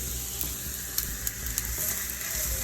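Imitation crab meat for a seafood stuffing cooks in a hot pan, giving a steady, close, bright sizzle and frying hiss with a few soft utensil taps and pops over the top, and no talking.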